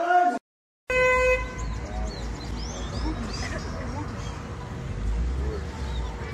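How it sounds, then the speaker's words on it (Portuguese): A short, loud car horn blast sounds at the start, followed by outdoor background noise with faint bird chirps. "O cara deu uma buzinada louca, né?"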